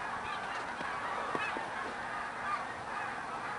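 A flock of Canada geese honks while flying south, overlapping calls blending into a steady chorus that stays at moderate distance throughout, with no voices.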